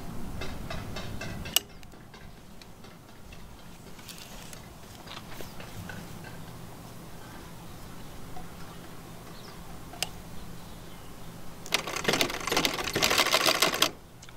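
A sewing machine stitches a flexible magnetic window screen, giving rapid rhythmic mechanical ticking and clatter that comes in bursts with pauses between them, close by and moderately loud.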